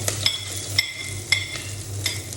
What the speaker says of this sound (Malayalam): കുറച്ച് വെളിച്ചെണ്ണ, പിന്നെ അരിഞ്ഞ് വെച്ച് ചെറിയ ഉള്ളി ഒന്ന് വാട്ടിയെടുക്കണം